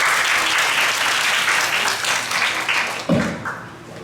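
An indoor audience at a Korean youth leaders' launch ceremony claps in a dense, steady burst that thins out and fades toward the end, with a brief thump near the close.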